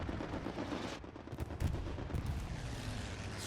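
Rapid bursts of automatic gunfire from a strafing run rattle through a noisy Hell Let Loose battlefield, with sharp cracks and rumbling booms at moderate distance, no talking.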